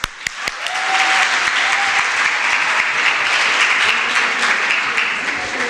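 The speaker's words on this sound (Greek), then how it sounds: "Παρακαλώ, χειροκροτήστε." Sustained audience applause in an indoor room at a tutoring school event on racism, building within the first second and holding as a dense, steady clatter of many hands for the rest of the clip.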